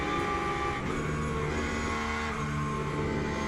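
Race car engine inside the cockpit in Le Mans Ultimate at Le Mans, LMGTE and LMGT3 class, a loud steady droning whine with layered tonal harmonics and a continuous rumble, close and unbroken, with no talking.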